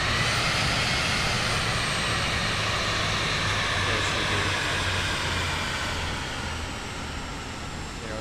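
Aircraft engine at takeoff in a flight video game, a steady loud broadband roar with a low droning hum that holds throughout and eases slightly toward the end, with no talk over it.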